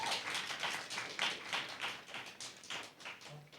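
Audience at a school debate competition giving a round of applause, a fairly faint, even patter of many hands clapping steadily throughout, with no voices over it.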